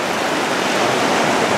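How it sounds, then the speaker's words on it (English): Seawater rushes and washes across a beach near Yaquina lighthouse as the tide comes in, a loud, close, continuous hiss of flowing water with no voices. "We got so much water running. Tide's coming in."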